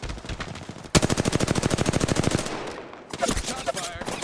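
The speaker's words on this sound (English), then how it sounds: "I am taking fire" Automatic weapon fire in Apex Legends: a rapid, evenly spaced burst of loud, close shots for about a second and a half, then a pause and a second, more ragged volley of impacts and shots.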